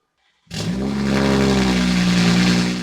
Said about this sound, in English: Here is a cold startup on a 340i. Well, pretty much straight piped.